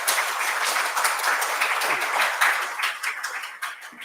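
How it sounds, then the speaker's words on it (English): An audience at a conference roundtable applauds its panel; a thick wash of many hands clapping runs continuously, strong at first and thinning slightly toward the end. "could we have a round of applause to the stunning panel that we had?"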